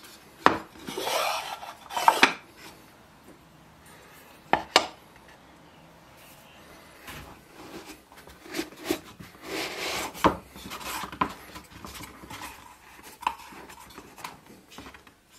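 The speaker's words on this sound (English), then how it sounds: "A quick sand to clean everything up," A carved wooden lid getting a quick hand sanding, with scattered scratchy rubbing strokes and a few sharp knocks, close and moderately quiet, pausing now and then before finishing.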